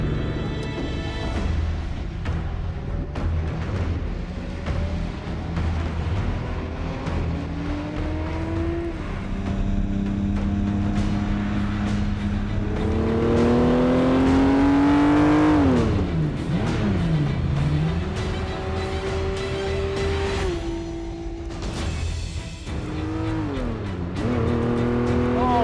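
Ferrari F50 engine pulling hard on a drive, loud and close, with rising and falling harmonic sweeps as it revs up through gears and drops between shifts, over steady road noise.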